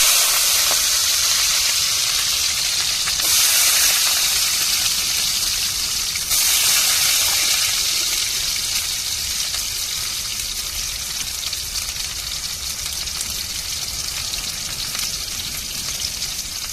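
Chopped small onions hiss and sizzle steadily in a hot pan while fish puttu is cooked, a dense close frying sound with two brief louder bursts as the onions are added or stirred, and no talking.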